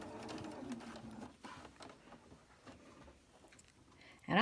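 A sewing machine chain stitches quilt pieces in a steady whirring stitch, fairly faint and close, stopping partway, followed by a few light clicks and a sudden louder noise at the end.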